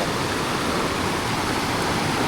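A waterfall on a hiking trail over slippery rocks rushes in a steady, dense roar, close and continuous throughout, with no voices.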